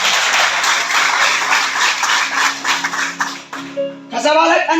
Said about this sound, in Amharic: አጨብጭቡ ለራሳችሁ።